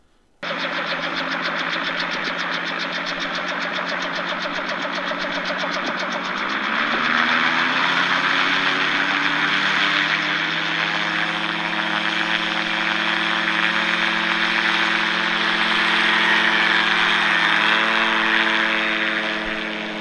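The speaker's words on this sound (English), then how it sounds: "Soon the gyrocopter picks up RPM and takes off." Dark blue gyrocopter's engine climbing in RPM for takeoff, a loud, steady propeller drone whose pitch rises around the midpoint and then holds strong and close through to the end, with no one speaking.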